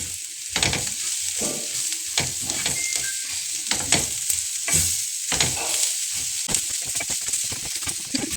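Spices and curry leaves frying in hot oil for hotel-style chicken sukka, with a steady close sizzle broken by repeated scraping stirs of a spoon in the pan.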